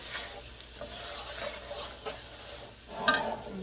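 Rice for a seafood paella fries in a pan, giving a faint, steady crackling sizzle close by, with a few brief stirring scrapes and a louder burst near the end.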